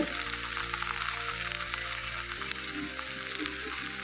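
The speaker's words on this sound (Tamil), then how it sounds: "பாருங்கள் நல்லா வதங்கிருச்சு" Okra frying in a pan gives a steady, moderate sizzle, with faint clicks of stirring now and then.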